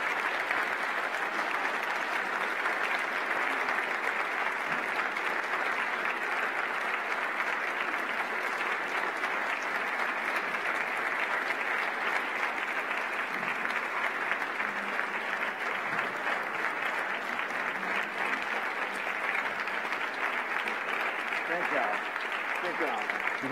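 A lecture audience gives Dr. John Perkins a long, dense round of applause, an unbroken roar of clapping at an even level for over twenty seconds.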